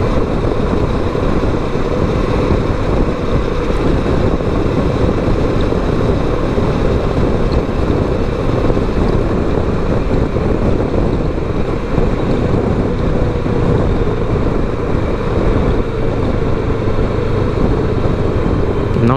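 Riding a VSX300 motorcycle on the road, a steady engine drone mixed with heavy wind rush on the microphone, continuous and loud with no talking.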